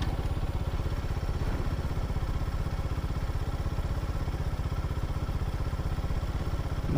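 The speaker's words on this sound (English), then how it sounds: "And this is a brand new motorcycle." A brand new Lifan motorcycle engine idles with a steady, rapid low pulsing putter, close and unbroken, with no voices over it.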